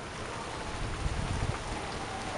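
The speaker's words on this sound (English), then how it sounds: "It's starting to rain." Steady rain falls during a severe thunderstorm, a dense continuous hiss of drops on surfaces that fills the whole moment without any voices.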